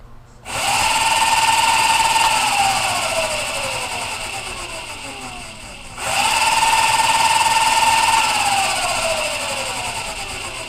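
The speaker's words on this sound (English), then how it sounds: "I'm going to give it full speed." A 1200 watt electric scooter motor on a 2015 Super Turbo model runs at full speed in two bursts, each spinning up to a loud high whine and then slowly winding down, with a short pause between them.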